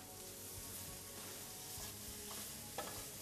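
Wild fish roe fries steadily in a pan for linguine, with a continuous low sizzle and crackle throughout and one slightly louder pop near the end.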